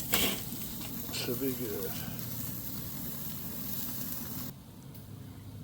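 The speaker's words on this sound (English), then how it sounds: "It's fresh off the grill. Look at that sizzle." Steak fresh off the grill gives off a steady, broadband hiss of sizzling fat that holds for several seconds before dropping a little, with a brief spoken remark over it.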